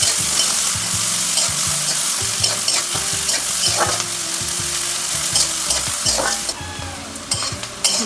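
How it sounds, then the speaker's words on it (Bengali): Onions frying in hot oil in a pan, a steady bright sizzle with a spoon scraping and stirring at intervals, close and continuous, the crackle briefly intensifying near the end. "তেল গরম হয়ে গেছে আমি এবারে পেঁয়াজটা দিয়ে দেবো পেঁয়াজটা আমাকে একটু লাল লাল করে ভাজতে হবে"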